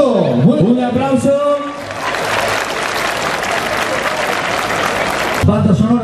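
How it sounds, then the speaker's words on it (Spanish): Crowd applause at an outdoor pet gathering in a park in San Fernando, a steady wash of clapping lasting several seconds, with someone speaking over it at the start and again at the end. "Oye, genial, un aplauso. Un aplauso."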